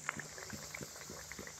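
Nimki pastries frying in oil over low to medium heat, a quiet steady bubbling with scattered small pops and crackles.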